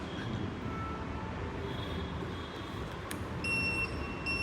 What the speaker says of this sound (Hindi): ये वाला जो बजर आ रहा है इसको आप ऑन भी कर सकते हो और ऑफ भी कर सकते हो